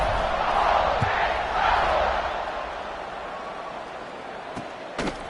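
A football stadium crowd buzzes loudly in a steady roar during a college game, fading a little toward the end, with a couple of sharp thumps.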